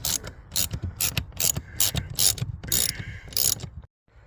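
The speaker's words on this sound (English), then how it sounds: "So do those 3 screws, take the motor off" Screws being undone from a car window regulator motor, heard as repeated close ratcheting clicks in quick bursts, ending in a brief silence.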